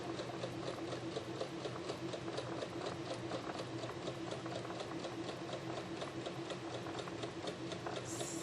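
Steady, rapid needle chatter from a sewing machine quilting fabric runs continuously and evenly throughout, a dense mechanical whir with fine regular ticking, moderately quiet and close.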